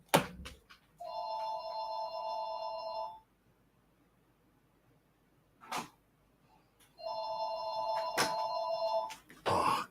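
A phone ringtone plays twice, each a sustained electronic tone lasting about two seconds with a long pause between, faint and indoors, with a few brief knocks and clicks around it.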